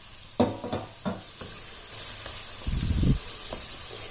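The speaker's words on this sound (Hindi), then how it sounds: "अब इसमें दरमियाने साइज के 3 अदद टमाटर डाल देने हैं।" Tomatoes dropped into garlic-ginger paste frying in a pan, with a few stirring clacks followed by a short burst of loud sizzling over a quiet background hiss.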